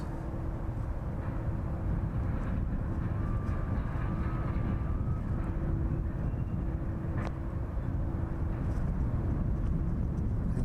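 A Ryanair passenger jet departs East Midlands Airport bound for Tenerife, producing a steady, broad engine roar that holds at a fairly even level throughout, with no voices.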